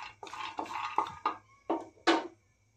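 Roasted pistachios poured and scraped from a pan into a dish, a short run of quiet rattling clatters and taps in uneven bursts that tail off into silence.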